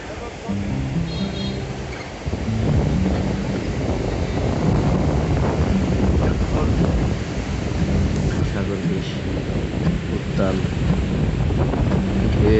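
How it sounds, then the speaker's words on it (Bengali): Sea waves roar with strong wind at Kuakata beach in Bangladesh, a loud continuous rumbling wash with gusts buffeting the microphone throughout. "গর্জন শো শো শব্দ বাতাসের সাথে তাল মিলিয়ে অন্যরকম"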